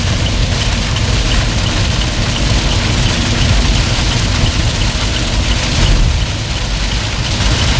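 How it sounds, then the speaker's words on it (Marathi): Heavy rain drumming on a truck cab while driving, a dense, loud wash over a constant low engine rumble, with no voices and little change throughout. "काय पाऊस आहे यार"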